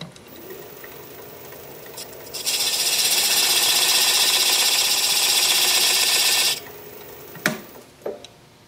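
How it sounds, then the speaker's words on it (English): Homemade point tool cutting into a wooden piece spinning on a woodturning lathe: a quiet motor hum, then a loud, steady scraping cut lasting about four seconds, then the hum returns with a couple of short knocks. "Taking my homemade point tool and outlining this mess."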